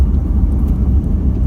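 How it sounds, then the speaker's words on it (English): A vehicle passing on an outback dirt road, a loud steady low rumble of engine and tyres heard from inside a moving vehicle, with no talk. "We've got a few oncoming vehicles."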